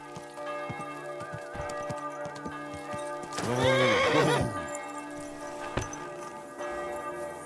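A horse in the medieval game Kingdom Come: Deliverance II whinnies loudly in a rising, wavering neigh amid steady clip-clopping hooves, with faint bell tones behind and one sharp knock near the end.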